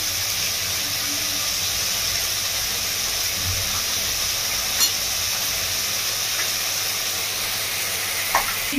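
Rui fish head frying in oil in a pan over a gas flame, giving a steady, loud, unbroken sizzle and hiss with a couple of faint clicks and no talking.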